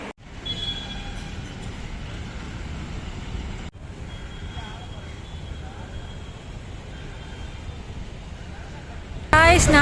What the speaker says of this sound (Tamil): நம்ம ட்ரெயின் பார்த்தீங்கன்னா பிளாட்ஃபார்ம் 10ல் வந்திருக்கு இன்னைக்கு சென்னைக்கு